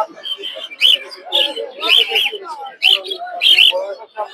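Cockatiels and budgerigars chirp and call repeatedly at a busy bird market in Tongi, a lively mix of sharp tweets and warbles close by, with people talking.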